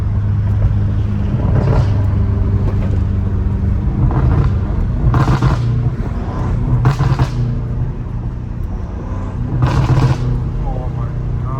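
A 650 hp BMW M5 Competition rumbles close by from inside the car, with several sharp bursts of exhaust pops and crackles scattered through, while people talk over the engine noise.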